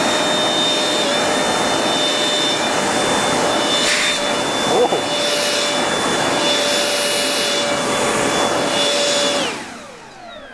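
A close, loud, steady whine from an RC model jet with a 64 mm electric ducted fan on a 4-cell battery holds for about nine seconds, with a hint of voice partway through, then winds down at the end.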